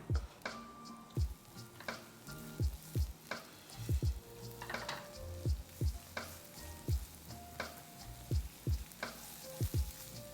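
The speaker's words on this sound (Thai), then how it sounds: "ผมตั้งกระทะแล้วก็ใส่น้ำมันมะกอกไปนิดนึง" Steady sizzling of onions frying in olive oil in a pan, with repeated sharp clinks and scrapes of a utensil stirring at irregular intervals.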